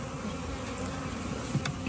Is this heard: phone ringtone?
no